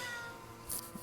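A house cat gives a single faint, brief meow over a steady low background hum, with no one talking.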